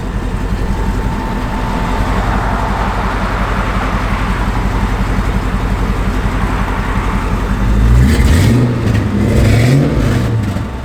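A 1964 Chevrolet C10 pickup engine idles with a steady low rumble, then revs up twice near the end, the pitch rising and falling in loud surges.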